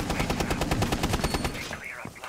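Rapid automatic gunfire from the Rainbow Six: Siege video game, a fast steady burst of close, loud shots for most of the moment before it trails off into fainter game noise and a voice.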